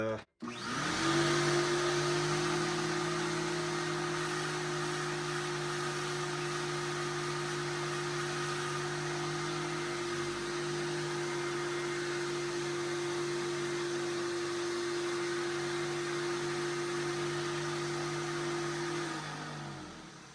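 A 1993 Regina Housekeeper upright vacuum cleaner runs with its hose in use, a loud steady whine and motor hum starting abruptly and droning on unbroken for the whole stretch, close by.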